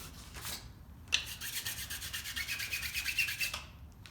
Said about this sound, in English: I'm going to sharpen my scraper. I want to have a nice right angle on the bottom of my scraper